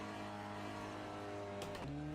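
A Seat Leon TCR race car in Assetto Corsa at Paul Ricard, engine droning at steady high revs from the start, then a quick gearshift with a brief burst of noise and a drop in pitch, heard from inside the car.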